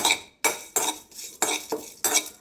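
A spatula scrapes and stirs urad dal, fenugreek seeds and dried red chilies as they dry roast in a pan, in five or so rhythmic, gritty strokes, close and fairly loud with no voices.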